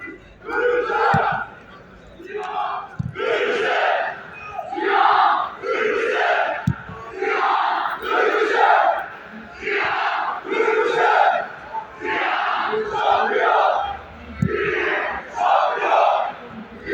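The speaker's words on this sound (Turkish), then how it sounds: "Tavşanlı Ada Stadında kırmızı siyah şampiyon Tavşanlı Yiğit tezahüratları var." Tavşanlı football supporters chant rhythmically in unison at Tavşanlı Ada Stadium, a large crowd roaring in steady repeated phrases with brief pauses between bursts, loud and continuous throughout.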